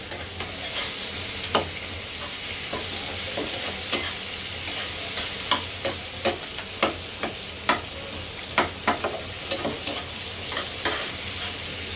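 Prawns coated with turmeric and salt fry in hot oil with a steady close sizzle, while a spatula scrapes and taps the pan at irregular intervals throughout.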